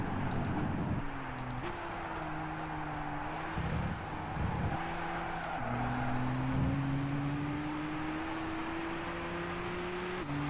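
A race car in Gran Turismo 6 brakes into a sharp corner and pulls through it, a steady engine drone shifting pitch and climbing gradually as it accelerates out, with faint tyre noise and no talk.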